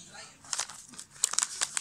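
A paper trading card being bent by hand, giving soft crinkling and crackling bursts in a quick irregular cluster, close and fairly quiet, with a voice faintly present.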